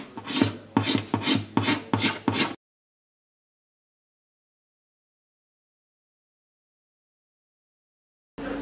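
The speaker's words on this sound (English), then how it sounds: "I'm just using the round-ended X-Acto knife. I'm just scraping the finish." A round-ended X-Acto knife scrapes old finish off a guitar body in a quick series of five or six close, rasping strokes, followed by a long silence.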